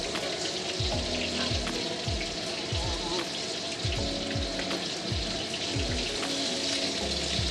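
Pork lion's head meatballs sear in a hot pan with a constant loud sizzle and crackle, overlaid by repeated low thumping knocks at a fairly regular pace.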